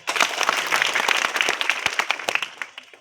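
A crowd claps in dense, continuous applause for an honoured student at a school welcome ceremony, loud and steady for about three seconds before tapering off at the end.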